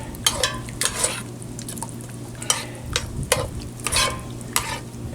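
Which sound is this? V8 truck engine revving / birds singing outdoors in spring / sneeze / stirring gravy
stirring gravy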